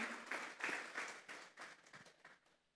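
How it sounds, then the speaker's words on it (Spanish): A church congregation claps together during a sermon, a fairly faint burst of applause with an uneven rhythm that fades away over a few seconds. "Vamos a darle una ofrenda de palmas a Dios en esta tarde"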